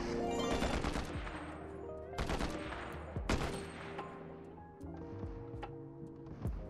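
Video game gunfire crackles in rapid automatic bursts, several sharp volleys separated by short gaps with ringing tails, fairly faint overall and without talk.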